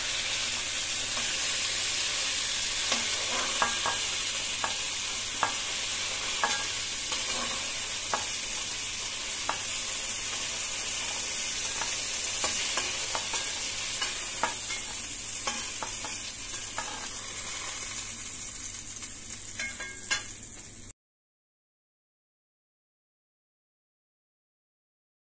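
Food frying in hot oil in a kadai while cooking mung dal khichuri: a steady close sizzle with repeated scraping taps of a spatula stirring, and no talk, before the sound cuts to silence.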